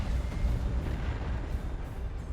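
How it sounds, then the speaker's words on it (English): In the strategy video game Dawn of War 2: Retribution, Manticore rocket launchers fire a rumbling barrage. The sound is a continuous low booming roar of distant explosions with no clear individual shots, moderately loud and without voices. "there was very, very little delay between the flare and the rockets being fired"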